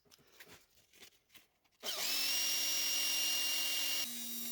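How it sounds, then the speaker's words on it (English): Dremel rotary tool cutting a string slot in a small wooden acoustic guitar part: light tapping and handling first, then a sharp high whine that starts abruptly, holds steady and close, and drops in pitch near the end. "I used the Dremel to cut in the string slot."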